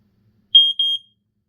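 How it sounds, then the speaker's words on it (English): A FireX Model B smoke alarm sounds in test: two loud, piercing high-pitched beeps in quick succession, each holding steady for about a quarter second, with silence around them. "These alarms are notorious for being really loud"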